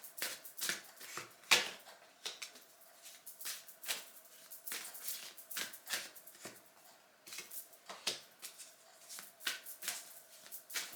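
Tarot cards being shuffled by hand, a steady series of close, crisp riffling bursts and slaps repeating at an uneven pace with short pauses between.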